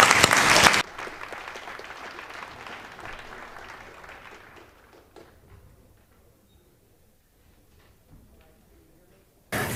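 Conference audience at a digital ethics talk clapping to welcome a speaker: loud applause that quickly thins into scattered claps, fades to near silence, then a brief noise at the very end.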